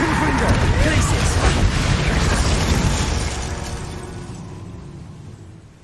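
Confringo fire spells bursting in rapid succession during a Hogwarts Legacy duel, loud dense explosive booms and crackles layered with battle effects, gradually fading toward the end.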